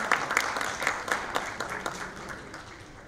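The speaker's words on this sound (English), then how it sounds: "a big round of applause for all our panelists and our moderator" Applause from an audience at a sales summit panel discussion, a round of clapping for the panelists and moderator, fairly faint and thinning out over a few seconds.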